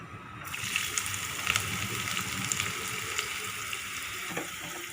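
Chopped onions fry in hot oil with fennel seeds and cloves in a pan, giving a steady crackling sizzle with brief spattering pops near the end.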